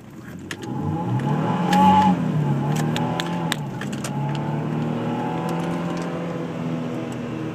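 A car in Chicago street traffic, shifted into low gear, accelerates hard with a loud, sustained engine roar that surges early and then holds steady as it pulls away.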